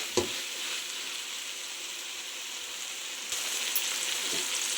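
Chicken curry masala frying in a pan in a village-style kitchen, a steady close-up sizzle that holds throughout, with a couple of faint stirring knocks.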